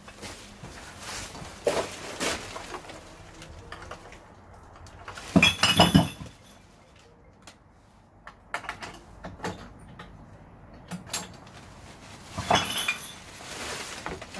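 Glass bottles clink and knock together as recycling is sorted, with scattered rattles and a few louder clusters of glassy impacts amid quieter handling noise.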